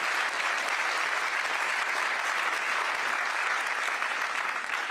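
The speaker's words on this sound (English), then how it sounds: "Can we have an applause for her being and get started here?" An audience applauds Senator Lisa Murkowski at a public event, steady sustained clapping from a crowd with no talk.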